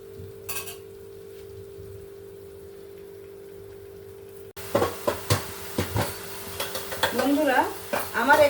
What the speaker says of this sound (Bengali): আর একসঙ্গে আমি দিয়ে দেব টমেটো যেটা পেস্ট করে রেখেছি সেটাও দিয়ে দেব দিয়ে আবারও এক মিনিটের মতন আমি এটাকে ভালো করে কষিয়ে নেবো